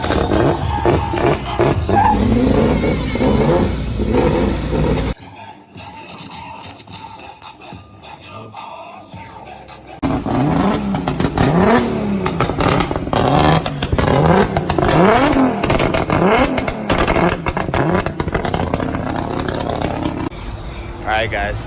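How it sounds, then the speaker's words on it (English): A BMW E30 with a big turbo revs hard and repeatedly at a car meet, rising and falling in loud, close bursts with a brief quieter gap, while people talk over it. "they're gonna turn on right now the E30 that we saw with the big ass turbo"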